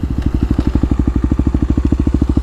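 A Kawasaki KLX250 dirt bike engine chugs close by in an even, rapid series of loud low pulses, with a loping thump and no voices over it.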